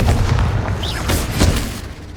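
A Confringo blasting spell goes off in Hogwarts Legacy, a short booming burst with crackling highs amid dense game rumble, loud and close, no speech.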